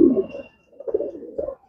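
A pigeon kept for sale coos close by, giving a short throaty call followed after a brief pause by two softer rolling coos, with no voices.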